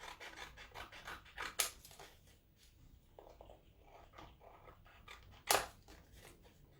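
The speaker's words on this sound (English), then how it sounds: "Don't use your fabric scissors to cut your cardboard." Two sharp scissor snips cut through cardboard, separated by a few seconds of quiet rustling and handling noise, close up with no talking.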